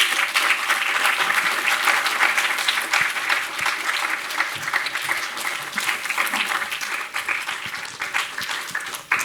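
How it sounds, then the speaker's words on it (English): Sustained audience applause fills the room after a student film screening at a campus film competition, dense steady clapping from many hands for the full stretch with no talk over it. "A big round of applause for all of them."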